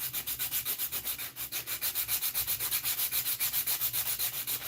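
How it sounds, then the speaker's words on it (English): Wood is sanded by hand with aggressive 100 grit sandpaper in quick, even back-and-forth strokes, each pass a close scratchy rasp repeating in a steady rhythm with no talking. "And then you go with this heavy grit and do that. Again, this is 100 grit, which is pretty aggressive"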